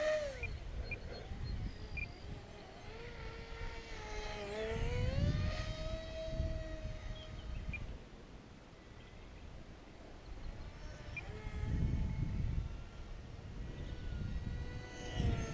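A fractal-design model airplane flies at half throttle, its engine whine rising and falling in two louder passes against steady background noise, with pitch sweeping as it approaches and recedes.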